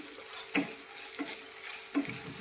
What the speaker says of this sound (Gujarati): એક ચમચી જેટલું તે અંદર લઈ લઈશું અને તેને પણ આપણે થોડું સાતરી લઈશું